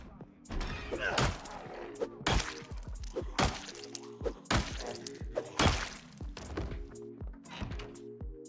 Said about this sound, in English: we're listening to a zombie banging on the door